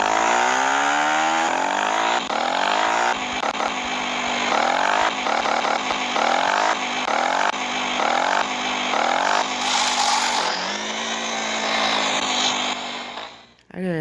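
Dirt bike engine in the MX Grau motocross game on Android, a loud buzzing two-stroke whine revving up and down in rapid repeated bursts, close and continuous throughout.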